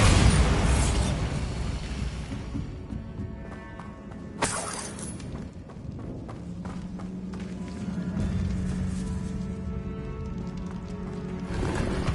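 Bombarda blasting spell in the video game Hogwarts Legacy erupts in a loud shattering explosion, followed by a second sharp burst a few seconds later, with crumbling debris and a rumbling game soundscape throughout.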